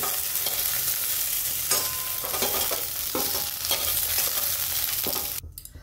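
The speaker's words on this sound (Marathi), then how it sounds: "आता वांगे ना छान परतले ते पा" Brinjal pieces sauté in hot oil in a pan, giving a steady close sizzle broken by repeated scraping stirs, with no talking.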